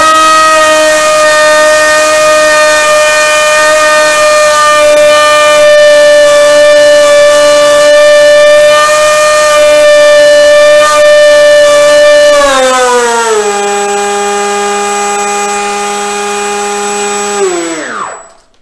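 Small electric motor and propeller of an RC model plane held at full throttle on a watt meter test, a loud steady high whine with stacked tones that holds, then drops in pitch and winds down to a stop near the end.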